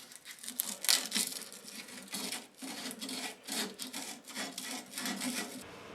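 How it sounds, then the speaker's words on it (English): A steel brush scrubs metal to strip the oxide layer, making repeated rasping strokes in a steady back-and-forth rhythm, close and alone. "Very important that you give that a really good sanding, or in that case the steel brush, just to make sure that the oxide layer is completely removed."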